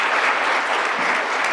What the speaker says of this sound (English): Please join me in a round of applause for our panelists, Ambassador Mark Lippert, David Sanger